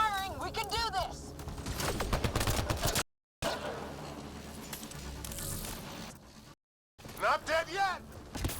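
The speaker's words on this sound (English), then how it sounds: "Just keep firing." Rapid weapon fire in Mass Effect Andromeda mixes with squad chatter and alien creature shrieks. The bursts come in uneven clusters under and between the voices, cut by two short silent gaps.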